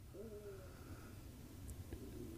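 Quiet, distant owl calls over a low steady background hum, a few drawn-out wavering hoots spread across a couple of seconds.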